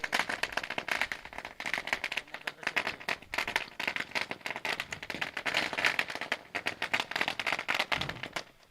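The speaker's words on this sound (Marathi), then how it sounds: "शौर्य 11 फटाक्यांची आतिषबाजी या ठिकाणी मात्र पाहुण्यांच्या स्वागतासाठी होतीये." A long string of firecrackers set off at a cricket league final to welcome guests, rapid loud crackling pops in dense irregular bursts that keep going for several seconds.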